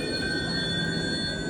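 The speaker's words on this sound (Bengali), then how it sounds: "ওই যে ট্রেন আসছে। Train is here." A train pulling into a UK station platform on a sunny morning, with a steady rumble, rail noise and a few high squealing tones from the wheels, moderately distant and without speech.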